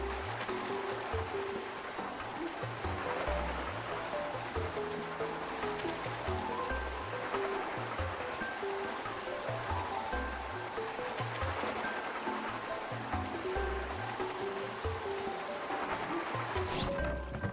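Surfing over waves in Genshin Impact makes a steady, full rushing wash of water with low thumps as the board hits the swell, continuous and close throughout with no talking.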